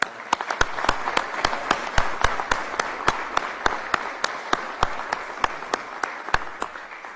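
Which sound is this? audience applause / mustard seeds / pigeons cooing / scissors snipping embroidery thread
audience applause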